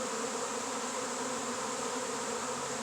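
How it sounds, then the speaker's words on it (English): Dense, steady buzzing of a large swarm of honeybees, loud and continuous throughout with no voices. "this is a lot of bees"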